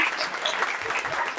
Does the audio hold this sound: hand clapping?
yes